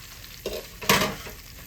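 Pork chops fry in hot oil, old-school Southern style, with a steady sizzle and brief bursts of louder crackle and bubbling, close and alone.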